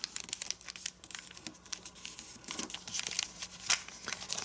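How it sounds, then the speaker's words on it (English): A paper flap being folded for an origami dragon, close crisp crinkling and creasing in quick irregular bursts, no voices. "And now let's fold this flap up like this."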